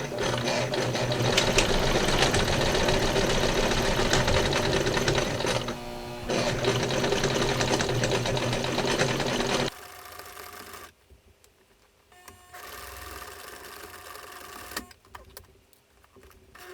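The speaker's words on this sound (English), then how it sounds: "we're going to sew top stitch the top seam" Sewing machine running steadily while top stitching a fabric face mask seam, a dense continuous whir for about ten seconds with a brief pause, then quiet handling noises and short bursts.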